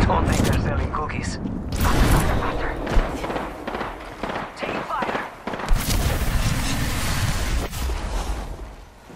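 A frag grenade blast in Apex Legends booms loud and close among heavy, broadband gunfire and further impacts, a continuous chaotic battle din.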